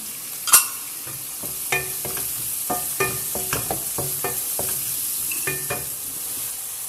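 Ingredients for Arabic rice fry and sizzle in a pan while a utensil stirs them, giving steady frying hiss with scattered metallic clinks and scrapes close by, and no voices.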